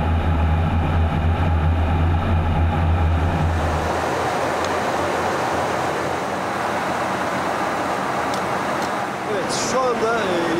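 A loud, steady jet engine roar in flight, from an F-16, fills the clip, shifting partway through to a broad rushing drone, with a brief voice near the end.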